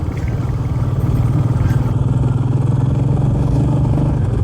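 A Royal Enfield Meteor 350 motorcycle on the move, its single-cylinder engine thrumming loud and close in a steady pulsing beat, with road and wind rumble and rattles throughout.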